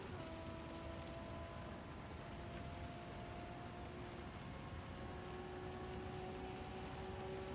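Steady rain hiss fills a Gran Turismo 7 race, with a low car engine drone and faint whining tones running underneath.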